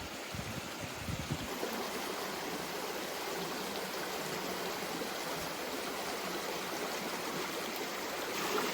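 Creek water flowing steadily past a big rock in a garden, a continuous broadband rush that stays even and close throughout with no voices.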